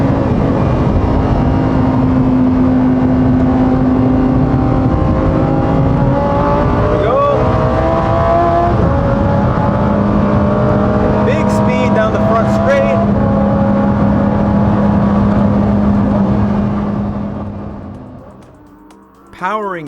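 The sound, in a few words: Lamborghini Huracán STO 5.2-liter V10 engine on track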